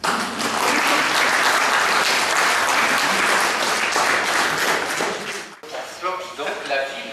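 Strong applause fills an award ceremony hall for the Prix des Découvreurs 2012, a loud continuous wave of clapping for over five seconds before tapering as a voice begins.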